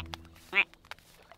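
Ducklings being walked back to their mother give a single short, fairly loud quack near the middle, with a few faint sounds around it.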